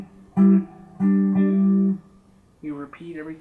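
A short G-pattern phrase on electric guitar from a song's guitar part: two sustained plucked chords, then a quicker pair of bending notes, close and solo.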